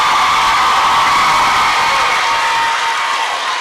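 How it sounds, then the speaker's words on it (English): Sustained crowd cheering and applause at a Longwood high school 12th grade commencement for the class of 2024, loud and continuous with whoops and shouts, no talk over it. "Give them a hand clap."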